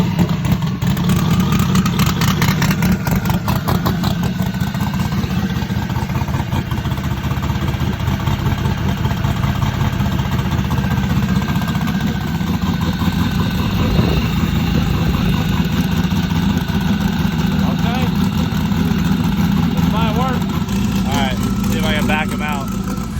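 A race car engine fires up and settles into a loud, steady idle that holds continuously, with a rough mechanical rumble and people talking over it nearby.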